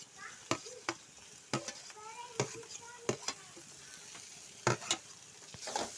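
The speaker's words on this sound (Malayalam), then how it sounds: "നന്നായിട്ട് വളർന്നു വന്നിട്ടുണ്ടെങ്കിൽ നമുക്ക് പച്ചമുളക് ഇട്ട് കൊടുക്കാം" Green chillies fry in a pan with ivy gourd for a pachadi, a gentle sizzle broken by sharp spoon clicks and scrapes against the pan, close, with a faint voice murmuring in the background.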